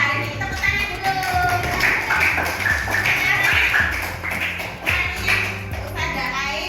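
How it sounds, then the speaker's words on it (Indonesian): A primary school class claps together in a classroom, with rhythmic hand claps and taps mixed with children's voices and some shuffling underneath. "Tepuk tangan dulu."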